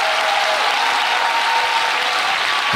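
A church congregation claps and acclaims together during a Sunday-morning testimony service, a dense, steady wash of applause filling the whole stretch without letting up, with no clear speech on top.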